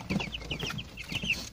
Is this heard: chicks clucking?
yes